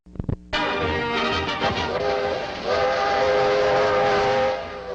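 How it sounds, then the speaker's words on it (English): A train's loud harmonic whistle sounds over the rolling rumble of the train as it crosses trestles on the Utah salt flats near Great Salt Lake, sustained and swelling before easing off. "the friendship train as it rolls across the salt flats of Utah and roars over the endless trestles spanning Great Salt Lake"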